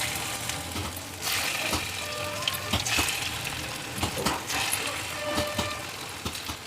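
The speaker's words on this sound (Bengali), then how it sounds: "তেল গরম হয়ে গেছে, এখন আমি এক এক করে ধোকাগুলো ছেড়ে দিচ্ছি" Masoor dal dhoka frying in hot white oil in a wok, a steady hissing sizzle with occasional clinks and crackles, moderately loud and continuous, with no talk.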